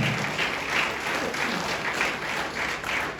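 A crowd at a company plan-launch event claps steadily, a dense, continuous patter of many hands at moderate distance throughout the short stretch.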